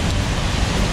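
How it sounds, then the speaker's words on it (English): Hard rain pours down in the high hills near a remote pub, a dense, loud, unbroken hiss of heavy rainfall with no pauses and no voices. "Really, really hard rain this time"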